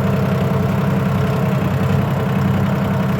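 A diesel loader tractor with a three-speed high, medium, low transmission runs close by, a loud, steady low engine chug with an even throbbing pulse and no breaks.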